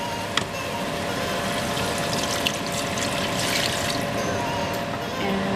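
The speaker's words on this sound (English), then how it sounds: "Now I'm going to add our coconut juice or coconut water." Coconut water pours steadily into a pot on high heat while Cambodian braised chicken and eggs cook, a continuous liquid splash and gurgle throughout.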